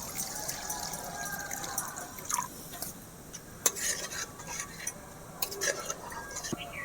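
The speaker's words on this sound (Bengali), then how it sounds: "এবারে আমি জলের বদলে এই যে নারকেলের দুধ দিয়ে দেব" Coconut milk goes into fried prawn curry masala and is stirred in a pan, with soft liquid sounds and scattered spoon-on-metal clinks and scrapes, fairly quiet throughout.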